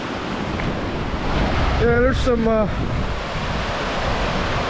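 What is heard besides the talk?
waves rolling in on Lake Erie shore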